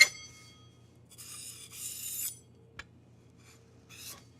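Knife or cutter trimming the outer edges of rolled croissant dough, heard as short scraping rasps in a few bursts with a small tap between, close and fairly quiet.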